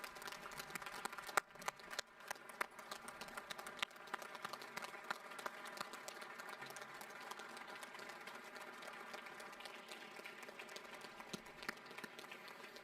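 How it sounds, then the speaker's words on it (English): Sustained applause from an audience at a ship christening ceremony for the USNS Hector A. Cafferata Jr. (ESB 8), honoring a Medal of Honor recipient; steady, dense clapping heard from a distance and fairly faint throughout. "please give a big round of applause for Medal of Honor recipient, Colonel J. Vargas"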